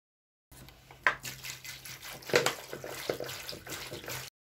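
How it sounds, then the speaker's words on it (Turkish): Wild pears picked from the mountains being washed in plenty of water, with splashing, sloshing and the clatter of fruit in a container rising and falling through the whole stretch, close by. "Şimdi bunları bol suyla yıkayacağım."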